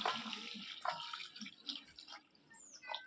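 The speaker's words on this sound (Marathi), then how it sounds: "यात मी उकळतं गरम पाणी टाकलं आहे" Boiling hot water trickles and splashes into a vessel holding gas stove burners and lemon, a faint, close liquid pouring with light drips throughout.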